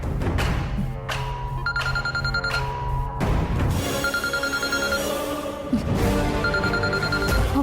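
A phone rings with an incoming call, a loud electronic tone pattern repeating in pulses over a busy musical background, with no speech.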